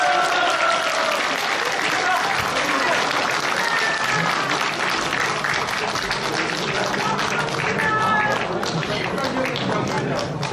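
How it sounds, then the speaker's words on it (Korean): A live audience claps warmly for a guest being welcomed to the stage, dense sustained applause filling the room at steady volume, with voices and cheers mixed in throughout. "뜨거운 박수 부탁드립니다"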